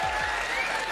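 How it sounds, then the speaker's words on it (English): A comedy-show audience breaks into applause, a dense wash of clapping from a large crowd that lasts under a second. "Round of applause for pedo teachers"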